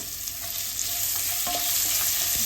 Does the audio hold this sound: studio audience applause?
no